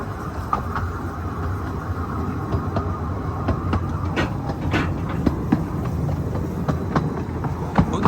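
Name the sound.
diesel locomotive train on Ravenglass & Eskdale Railway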